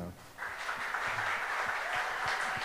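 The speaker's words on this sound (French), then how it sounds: "Et Marie-France qui représente le mouvement Kiro, que je vous demande d'applaudir" An audience applauds a contest representative from the Kiro movement, a steady, moderately loud wash of clapping that swells in after a short pause and continues evenly.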